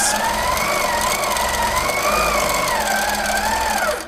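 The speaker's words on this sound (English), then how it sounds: "Now we're ready to do some stitches." Simply Sixteen quilting sewing machine stitching, a continuous close motor whine whose pitch gently rises and falls for several seconds before easing off at the end.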